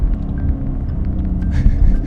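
Low, steady engine rumble from a 670 hp Roush Stage 3 Mustang GT, heard continuously and close with a slight swell toward the end, no voices present.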